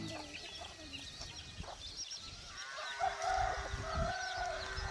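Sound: hens and roosters clucking on a farm

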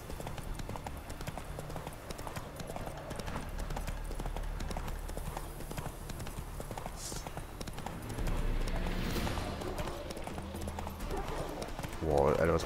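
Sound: horse galloping in a video game

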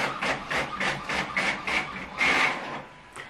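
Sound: loud printer printing

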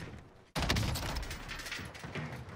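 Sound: gunfire in Warzone video game

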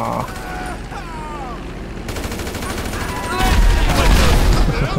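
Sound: gunfire from the video game GTA V

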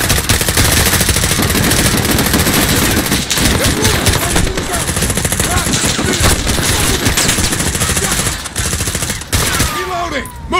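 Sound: suppressing gunfire in Call of Duty Modern Warfare video game

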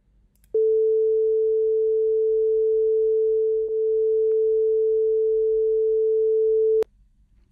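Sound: Python-synthesized tone, amplitude fading to zero and back up

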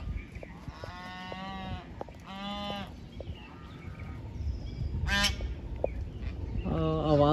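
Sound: ducks at a pond in Sanjay Van

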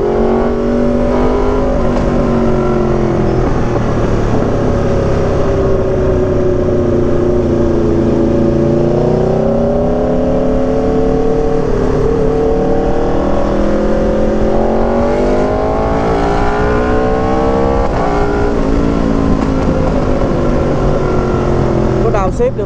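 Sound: Aprilia RSV4 motorcycle engine revving with quickshifter auto-blip downshifts

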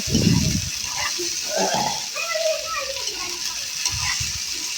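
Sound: potatoes and drumsticks frying in a pan

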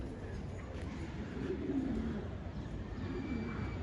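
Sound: bird, likely pigeon, arriving and cooing

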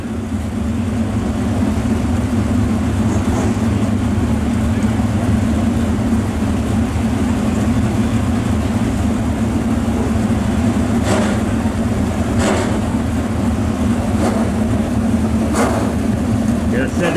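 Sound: street stock race cars qualifying on track

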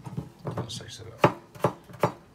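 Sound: knife slicing potato on a board

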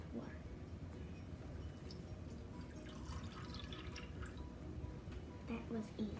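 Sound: water being poured for slime

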